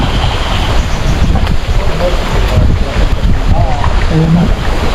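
Strong wind buffets the microphone in a continuous loud rush, with rough low rumbling and a faint murmur of voices beneath.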